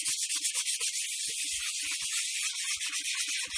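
A rusty lathe surface is scrubbed in circles with a rapid, continuous rubbing rasp, close and steady in rhythm.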